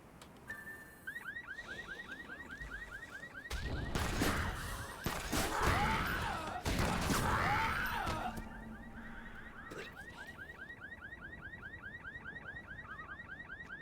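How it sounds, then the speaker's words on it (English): In the video game Secret World Legends, a car alarm sounds with a rapid, repeating whooping tone across the whole passage, broken in the middle by a few seconds of loud crashing and thudding, then resuming steady and moderately close. "jump on cars to trigger an alarms"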